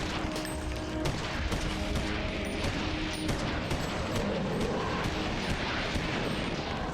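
Rapid gunfire from headshots in the horror video game Eternal Darkness: Sanity's Requiem, a dense continuous barrage of shots and crashes filling the whole stretch with no talking.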